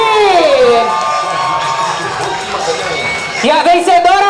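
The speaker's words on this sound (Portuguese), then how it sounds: "Cadê a torcida da Kimberly?" At a drag queen contest in Mogi das Cruzes, Brazil, an audience cheers and shouts for a contestant, loud and continuous, with a fresh burst of whoops near the end.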